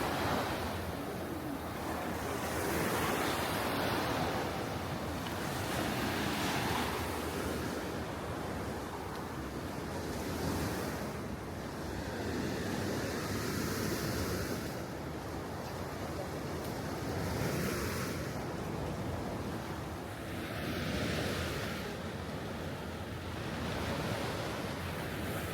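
Ocean surf rolls onto the beach at Sunny Isles, Miami, in a steady broadband wash with slow swells every few seconds, with some wind noise mixed in and no voices.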